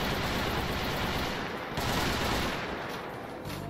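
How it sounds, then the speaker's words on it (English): Rapid automatic weapon fire in a Left 4 Dead 2 Call of Duty mod, a dense, loud, continuous rattle of shots that barely pauses, with no speech. "Another one that could be just about any automatic weapon,"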